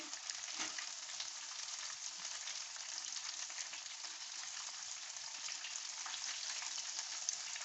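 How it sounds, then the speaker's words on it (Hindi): Gram-flour-coated fish fries in a pan over a low flame, giving a steady, even sizzle with fine crackle that holds at a constant level throughout, close by and with no talking. "इसको इसी तरह बिल्कुल स्लो जो होती है आँच उसके ऊपर पकाते हैं हम"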